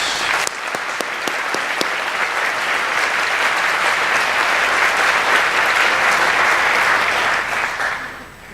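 Audience at a school awards day breaks into loud, sustained applause that holds steady for several seconds before tapering off near the end.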